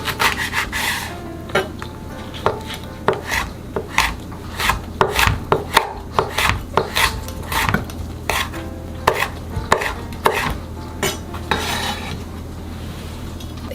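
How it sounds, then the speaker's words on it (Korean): A knife chops green onion and half a red chili on a cutting board, with crisp, close, evenly spaced thuds and some quick bursts, while preparing seasoned bangpung namul. "대파도 조금만 송송 잘라주고요."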